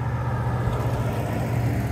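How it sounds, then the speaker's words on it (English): Road traffic rumbles steadily outside, a low, continuous engine drone from passing vehicles with no clear breaks, fairly close and constant. "Sorry for the traffic, it's just impossible to film today."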